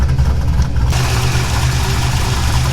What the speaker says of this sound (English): You guys can probably see the engine doing its thing and shaking all over the place.